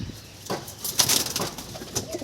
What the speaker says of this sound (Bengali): এইবার যে পায়রা দেখতে পাচ্ছেন এই পায়রাটা হচ্ছে মেদ্রাসি লাইনের পায়রা